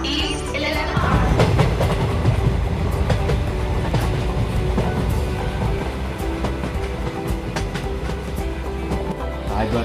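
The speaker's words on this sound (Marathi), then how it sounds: "प्लॅटफॉर्म क्रमांक 1 की लोकल हार्बर लाइन से वाशी जाने वाली 12 डिपो की ही लोकल है." A 12-car Mumbai Harbour line local train rumbles steadily alongside the platform, its heavy wheel noise and metallic clatter continuous and near, with a platform announcement and background voices.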